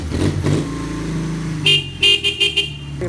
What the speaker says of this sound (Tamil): சொன்னால் அந்த பைக்கில் சத்தம் தான் எனக்கு பிடிச்ச விஷயமே.